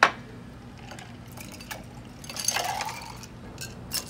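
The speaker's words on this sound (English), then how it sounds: "Go ahead and pour it into your brandy snippers" A Grey Goose cucumber cocktail is poured from a mixer into glass brandy snifters, with a sharp clink at the start, a soft trickling pour and a final light glass tap, quiet and close.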